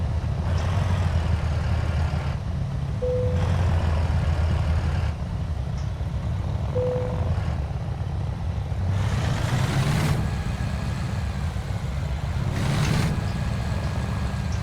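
International Lone Star truck engine idling low and steady in a truck simulator game, a mellow, quiet rumble running continuously, with faint rising tones and brief beeps over it.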